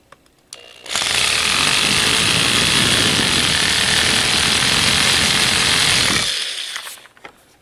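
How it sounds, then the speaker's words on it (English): After a brief quiet, an electric drill whirs loudly and steadily for about five seconds while slowly drilling into a crucifix being repaired, then winds down and stops. "So I'm just going to hold it tight and then slowly drill into it"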